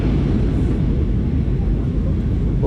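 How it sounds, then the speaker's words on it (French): Inside an airliner circling before landing, a loud, steady cabin drone of engine and airflow rumble continues without a break. "bon l'avion il fait des tours"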